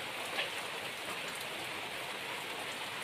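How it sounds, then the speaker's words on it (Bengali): Rain falls steadily after a long hot spell, a dense even hiss with no pauses and no voices, one faint drip standing out near the start. "অনেকদিন পর আজকে বৃষ্টি হচ্ছে।"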